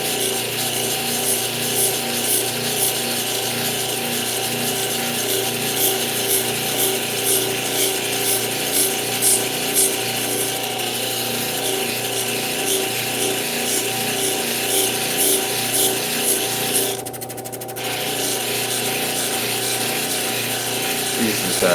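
Turquoise cabochon ground on a 3000 grit lapidary wheel, a steady whirring hum with rhythmic rubbing and scraping pulses that dips briefly near the end, with no talk.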